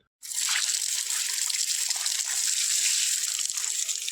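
Water gushes steadily from a pipe, starting abruptly after a brief silence and continuing as a loud, even rushing splash.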